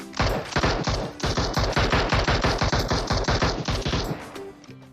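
Rapid automatic gunfire in the PUBG Mobile battle game, a loud, sustained burst of evenly spaced shots that runs for several seconds before stopping abruptly.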